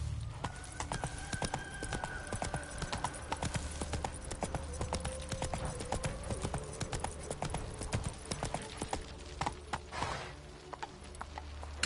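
Horse hooves in The Witcher 3: Wild Hunt pound in a steady galloping clip-clop throughout, close and continuous, with a brief whinny and faint game ambience underneath.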